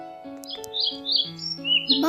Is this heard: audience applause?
no